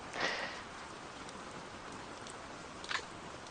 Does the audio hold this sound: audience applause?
no